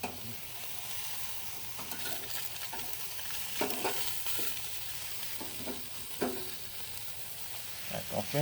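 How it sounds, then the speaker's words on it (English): Burgers sizzle and crackle steadily on a small, cheap grill, with a continuous close hiss and occasional sharper pops and scrapes, no voices. "we're gonna move these burgers over to the heat part of the grill and finish cooking them up"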